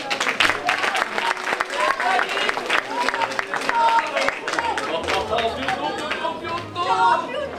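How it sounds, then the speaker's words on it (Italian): A crowd claps in a sustained burst of applause, with voices chattering and calling out over it throughout. "Un applauso."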